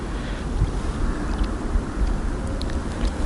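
Steady wind buffets the microphone with a dull, continuous roar and rumble, no voices, at a frozen lake in winter.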